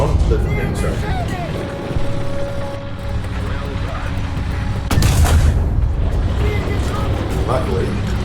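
Tank cannon fire and incoming shell impacts in a war video game, with a heavy blast near five seconds over continuous rumbling battle noise, while someone talks throughout.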